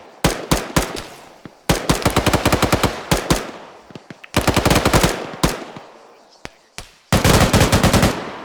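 Machine-gun and rifle fire in a military platoon training exercise, loud close bursts of rapid shots in several strings separated by brief pauses, with single cracks between bursts.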